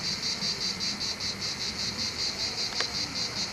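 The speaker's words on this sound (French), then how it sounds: "Vous entendez les cigales là" Cicadas shrill in a steady pulsing chorus on a hot, sunny day, the rhythmic buzzing continuous and fairly close with no talk over it.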